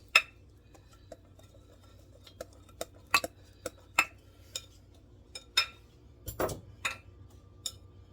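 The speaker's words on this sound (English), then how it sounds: "I am going to do 1 final whisk on my batter" Whisk clinking against a bowl while mixing gluten-free pancake batter, scattered sharp metallic ticks and taps with one longer scrape, close and quiet.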